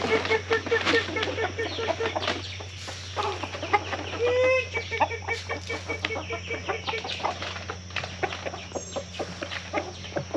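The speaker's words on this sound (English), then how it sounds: "Give my chickens their morning treat this morning." Several chickens cluck and chatter close by in an irregular flurry, with a brief squawk and faint low hum underneath.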